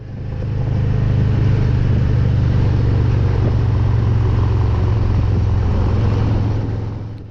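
Motorcycles ride along a road with a steady, loud engine rumble and constant wind roar throughout, fading in and out at the edges.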